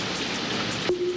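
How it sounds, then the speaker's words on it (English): Rain falls across the grassland of Ngorongoro Crater in Tanzania as a steady, even hiss with no voices, ending with a faint sustained tone. "Wildebeest, Grant's gazelle, lion, all soak in the cool rain."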